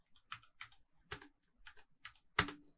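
Keystrokes on a computer keyboard, a handful of separate clicks in an uneven rhythm, with a louder final key press, close and alone in a quiet room.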